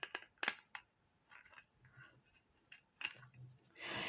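Scissors snip through loom warp threads in a few short, quiet cuts separated by pauses, with faint handling rustle and a brief louder burst of noise at the end.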